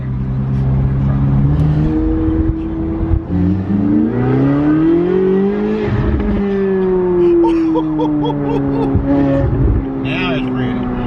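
Chevrolet Corvette C8 Z06 engine revving loud and close, its whining pitch climbing and dropping through quick dual-clutch gear changes, with a voice heard over it.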